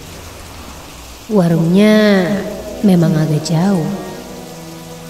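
Steady rain falls at a roadside bus stop in a late-afternoon radio drama scene, a continuous wash of rainfall running under a woman's close, clear speech throughout.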